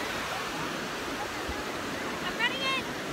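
Surf washes steadily onto the beach at Toms Cove in a continuous broad hiss with a light breeze, and a faint chirping tone rises briefly near the end.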